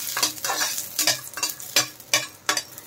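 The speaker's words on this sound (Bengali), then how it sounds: "বড়িগুলো একটু লাল লাল করে ভেজে নেব।" Urad dal bori frying in hot mustard oil, stirred in a rhythmic series of close scraping strokes over a continuous sizzle.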